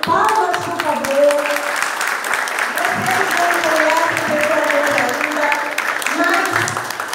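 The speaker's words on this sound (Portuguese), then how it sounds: "palmas, por favor." Audience applause at a Brazilian event on the rights of people with disabilities, steady and sustained across the whole stretch, with voices talking and calling out over the clapping.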